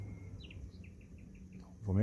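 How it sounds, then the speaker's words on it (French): Birds chirping outside a van on a hot day, a quick series of faint, high repeated tweets, distant and soft, before a louder low noise starts at the end. "on entend même les oiseaux, tiens."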